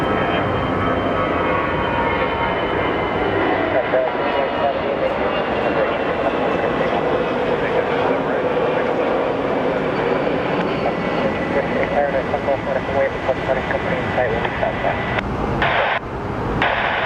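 American Airlines jet in Continental Retro livery at Phoenix Sky Harbor, a continuous loud engine roar and whine, fairly close and steady throughout.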